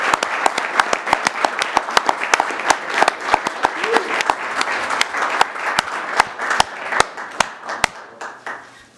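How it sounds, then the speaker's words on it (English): Applause from the audience at a regular city council meeting honoring a retiring council member, a dense patter of hand claps with sharp, loud individual claps standing out, continuing steadily for several seconds. "So let's give him a round of applause."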